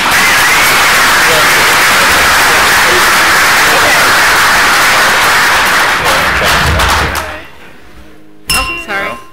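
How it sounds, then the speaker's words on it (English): An audience at the 2018 Great American Water Taste Test gives a loud, dense round of applause that holds for about seven seconds, then fades away, followed by a few sharp glass clinks. "A round of applause for them."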